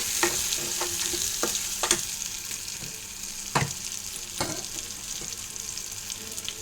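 Small fish fry in chili oil in a pan with a constant sizzle, broken by scattered stirring scrapes and clinks of a utensil against the pan.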